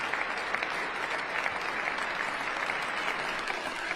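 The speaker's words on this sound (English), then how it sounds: "By the way, can you hear the applause?" Steady applause from a crowd at a Trump event, continuous and even throughout, moderately distant with no voices over it.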